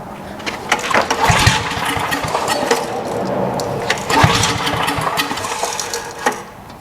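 A small engine with the choke engaged cranks and sputters nearby, giving rough, uneven bursts of running that surge and fade without settling into a smooth idle.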